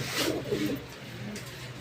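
Pigeons cooing at a pigeon breeding farm: soft, low, throaty coos over a couple of seconds, close by against faint background noise.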